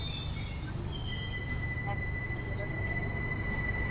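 Inside a moving train carriage, a steady low rumble from the rails continues throughout, with thin high squeals from the wheels. No voices are heard.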